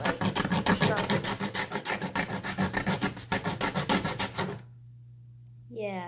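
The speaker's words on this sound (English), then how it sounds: "you want to sand down the bottom so it's not like sharp" Rapid back-and-forth rasping as the bottom of a homemade Black Panther-style claw is sanded, close and rhythmic for about four and a half seconds, then stopping, followed by a brief voice.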